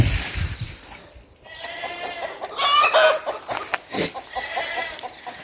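A backyard chicken clucks repeatedly at close range in a garden, a run of short, nasal cackles and calls with a faint rooster-like crow mixed in over quiet outdoor background.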